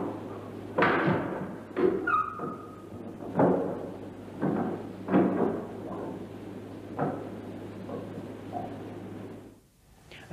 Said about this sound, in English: we firmly believe we recorded the sound of a ghost stepping forward and opening something which sounds like a door.